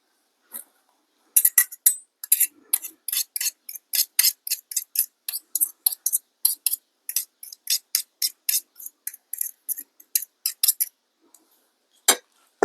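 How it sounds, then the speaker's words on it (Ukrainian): Rapid, light scraping and tapping of a spoon against a bowl as egg yolks are mashed with strong mustard, repeated steadily in quick strokes, close and crisp, with no voices, outdoors. "ретельно перетираємо жовтки разом з гірчицею"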